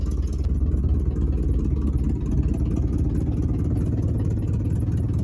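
A 1979 Chevy C30 squarebody truck engine idles with exhaust leaks, a loud steady low rumble with a continuous chuffing rasp throughout and no talking.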